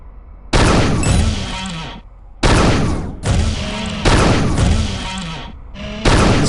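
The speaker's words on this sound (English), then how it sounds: "Take a couple practice shots." Practice shots from the dispersion pistol in Unreal 2 ring out as several loud, close energy blasts, each a sustained burst with a fading tail, spaced unevenly with short gaps between them.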